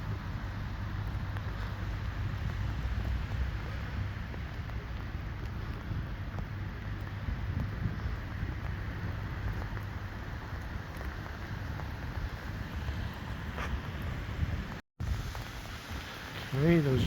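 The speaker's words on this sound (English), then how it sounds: "The rain's coming down again. You might be able to hear it." Heavy rain pours down along the Blackpool Illuminations, a constant dense hiss of falling water and wind noise against the microphone, with a brief interruption near the end.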